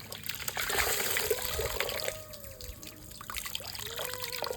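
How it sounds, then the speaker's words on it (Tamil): A vetiver root garland being rinsed in water, giving soft trickling and splashing with occasional drips, quiet and close, with no talk. "இப்போ இதை நான் வந்து ஒரு அலசு அலசிட்டேன்"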